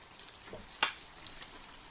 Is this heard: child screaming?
no